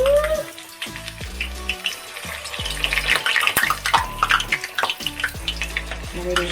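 Lumpia fry in a pan with a continuous crackling sizzle under soft music, the bubbling rising and falling close by.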